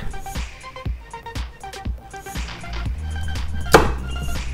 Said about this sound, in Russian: режем ее на мелкие кусочки.